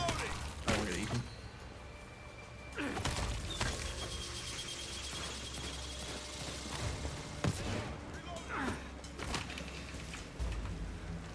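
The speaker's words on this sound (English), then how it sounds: "one sound effect that plays with that flashbang is from Payday 2" A flashbang grenade goes off in Overkill's The Walking Dead, a co-op zombie shooter game, giving a few sharp bangs spread through a dense bed of gunfire-like game noise and steady low rumble.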